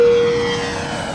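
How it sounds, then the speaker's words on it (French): A jet airplane taking off, its loud engine roar close at first and slowly easing off over a second or so, with no voices. "Prêt pour le décollage."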